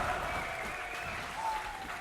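A large crowd at a DreamHack League of Legends esports match keeps up steady applause and cheering that fills the whole stretch at an even, loud level.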